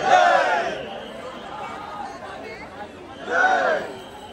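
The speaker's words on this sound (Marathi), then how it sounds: "लय गर्दी आहे" Devotees crowd Dwarkamai in Shirdi: a loud burst of shouting voices opens, a restless murmur of chatter follows, then another swell of calling near the end.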